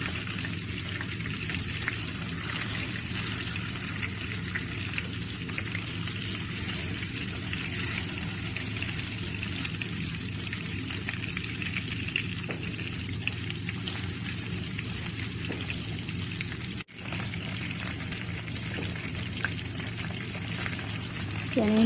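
Masala fish pieces sizzle steadily in hot oil, a dense continuous crackle and hiss that stays loud and even throughout, with one brief dip near the end.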